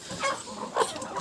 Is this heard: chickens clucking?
yes